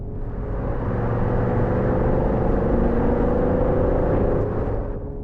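A deep, steady V8 engine rumble from a 2023 Porsche Cayenne Turbo SUV idles close by, low and throbbing, holding constant throughout with no other sounds.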